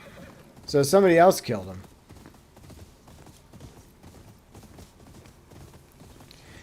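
A horse in the video game Ghost of Yōtei whinnies loudly in one strong burst, followed by softer, steady hoof clip-clops while someone talks over it.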